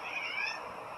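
A domestic cat meows once indoors, a single drawn-out, close and fairly loud call lasting about a second.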